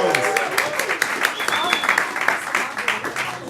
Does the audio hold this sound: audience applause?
yes